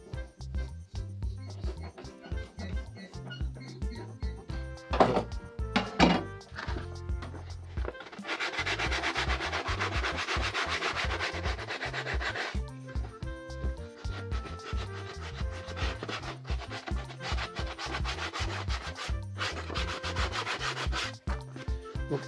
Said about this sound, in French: Je vais faire un petit chanfrein comme ça. Que je vais poncer ensuite